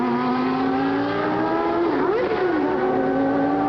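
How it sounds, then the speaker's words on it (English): Formula One car at full speed at the 1989 German Grand Prix, its engine a loud, sustained high-revving scream with a brief pitch dip and recovery as it passes close by. "Here comes Senna, meanwhile, at full song"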